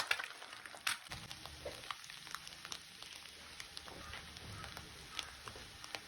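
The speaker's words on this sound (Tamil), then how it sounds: "உப்பு போட்டு ஸ்க்ரம்பிள் பண்ணி தனியாக எடுத்து வச்சுக்கோங்க" Eggs with salt being fried and scrambled in oil in a pan, a faint steady sizzle broken by light spatula taps and scrapes, quiet and without speech.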